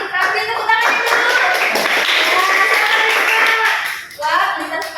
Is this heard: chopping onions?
no